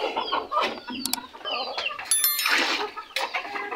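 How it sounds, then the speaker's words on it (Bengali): Cochin chickens, one rooster and four hens, clucking close by in short, overlapping bursts with scattered higher calls, loud and busy, with no voice over them. "এখানে টোটাল 1টা মোরগ এবং 4টা মুরগি আছে।"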